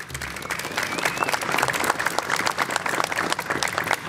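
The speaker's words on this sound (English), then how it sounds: "Can we please give them a big round of applause?" A crowd at a Staten Island ferry commissioning ceremony applauds, honoring ferry workers, with dense clapping swelling and continuing throughout, a few brief cheers or whistles rising within it.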